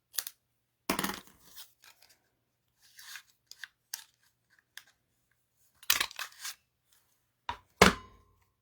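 Scissors make a series of sparse, sharp snips and crunchy cuts spaced irregularly with long quiet gaps between them, close and distinct with no talk.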